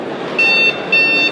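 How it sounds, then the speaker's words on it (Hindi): Two short electronic horn beeps from an electric bike, each about a third of a second, sounding a steady high tone over a low rumble of background noise. "इसके यहाँ पर आपने वो भी हॉर्न दिया हुआ है"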